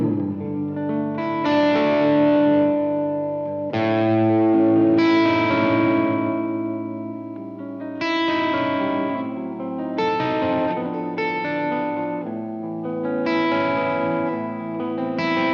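Electric guitar through a Line 6 Helix LT with reverb, a few strummed chords ringing out and decaying in long washy tails, loud and spacious with no voices.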